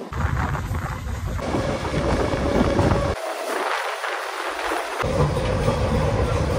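A local DEMU train running from Lataguri to Siliguri gives a steady rumbling roar with wind buffeting, loud and close, dipping briefly in the middle before the drone returns.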